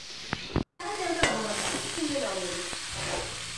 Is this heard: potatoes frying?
yes